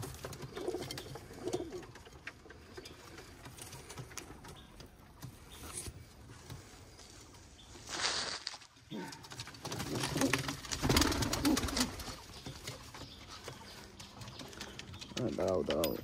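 Domestic pigeons coo on and off near a loft as they are released into the morning sky, with soft wing patter, while a person talks over much of it.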